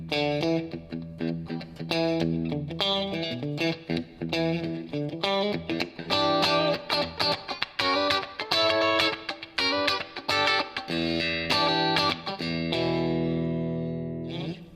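A Stratocaster electric guitar plays in the bridge-and-middle pickup position, a clear run of plucked notes and chords, close and continuous with a bright, slightly quacky tone and occasional effects shimmer.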